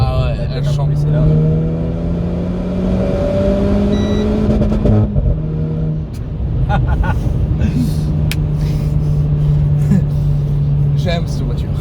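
A Renault Clio 4 RS engine revs up through the gears, a loud, droning in-car tone that climbs steadily in pitch, drops briefly at a shift, then holds high, while occupants chat over it.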